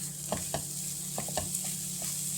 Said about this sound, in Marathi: यामध्ये आता आपण गोळ घालून घेऊया आणि तो सुद्धा परतून घेऊया